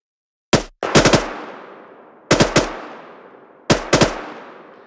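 Rifle gunfire in the video game ArmA 3 running the ACE 3 mod: three bursts of two to four sharp shots each, spaced about a second and a half apart, loud and close, with reverberant tails fading between bursts and no talk.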